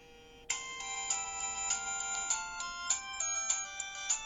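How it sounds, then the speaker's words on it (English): A polyphonic mobile phone ringtone plays a bright, tonal electronic melody of repeated, evenly paced notes. It sounds clear and fairly loud, with nobody talking over it. "Polyphonic ringtone."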